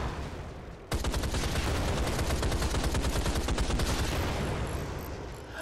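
A machine gun in a first-person shooter game opens up suddenly after a quiet moment and keeps firing in one long, loud, rapid stream of shots for several seconds.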